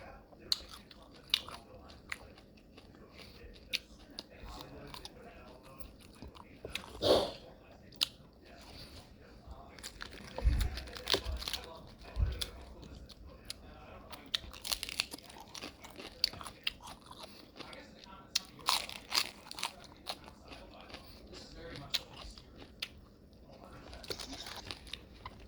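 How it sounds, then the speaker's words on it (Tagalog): Loud crunches and bites come from someone eating crunchy fried pork chops with lettuce in a home-cooked Filipino meal, each bite an irregular crackle close to the mouth, with chewing in between. "Look crunchy."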